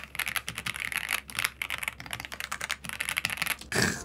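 Fast typing on an F87 Pro Dokgeomi mechanical keyboard with plastic housing, a dense run of close, crisp key clacks with a couple of short pauses and no talking.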